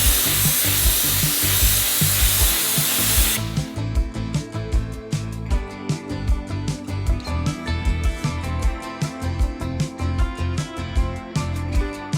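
A spray gun hisses steadily for a few seconds as it lays primer on a 2024 Porsche GT3 RS being repaired after a crash. The hiss then cuts off and gives way to a run of rhythmic tapping clicks.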